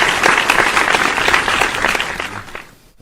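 Dense applause from a podcast studio audience, loud and steady for most of the stretch, then thinning out and stopping near the end.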